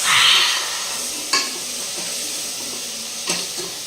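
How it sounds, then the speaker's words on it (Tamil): Egg biryani mixture stirred and sizzling in a pan, a steady close frying hiss with two sharp spoon scrapes against the metal, no voices. "இது நல்லா மிக்ஸ் பண்ணிவிட்டு"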